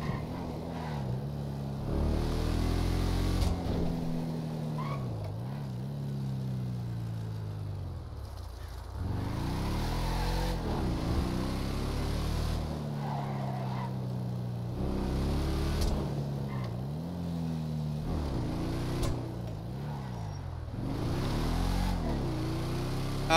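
Car in a GTA roleplay game pulling away, its engine rising and dipping through repeated revs and gear changes as it drives off, steady and fairly close, with no one speaking.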